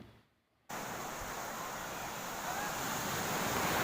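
Ocean waves at Mypadu beach near Nellore roll in with a broad continuous surf roar, loud and close, building slightly toward the end, with wind buffeting the microphone.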